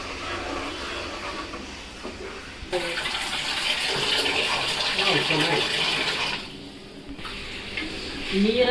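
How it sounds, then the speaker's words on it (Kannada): Water poured into a pot of sambar cooking on a home stove, a continuous close splashing gush that swells for several seconds and then tapers off, over a low background hiss. "ನೀರ ನೋಡ್ಕೊಂಡು ಹಾಕೋದು ಎಷ್ಟು ಬೇಕಷ್ಟು"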